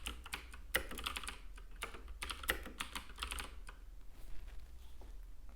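Rapid typing on a computer keyboard, close and clear, with irregular bursts of key clicks that thin out toward the end; no talking over it.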